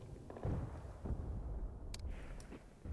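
Heavy enemy artillery shells exploding on a battlefield in Graviteam Tactics, several deep booming blasts rolling in at uneven intervals, loud and close, with sharper cracks in between.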